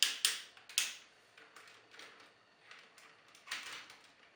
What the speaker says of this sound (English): Ratcheted elbows.